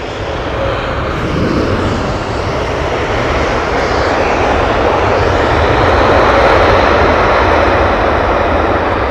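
A large aircraft roars loudly on the runway at London Heathrow, a broad continuous engine rumble that swells slightly over the clip, with no talking.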